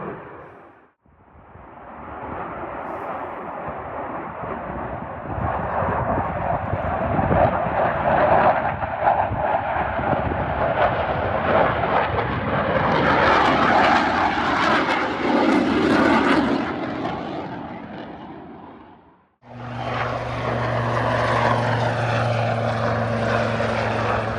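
A Hornet fighter jet passing overhead during a military exercise, a loud sustained engine roar that builds and brightens mid-pass, then briefly cuts out before a steady droning engine tone resumes, with no voices.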